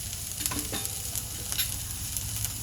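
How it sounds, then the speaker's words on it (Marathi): Cabbage, onion, carrot and green beans sautéing in a pan over high flame for a lemon coriander soup, with a steady loud sizzle and occasional spatula scrapes and stirs, no voices. "बघा, भाज्या छान परतून झाल्या."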